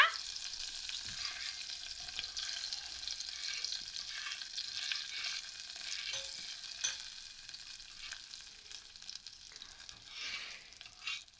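Sugar melting in a pan for homemade lollipops, stirred continuously, giving a soft, faint crackling sizzle with light scraping that runs steadily throughout at low level.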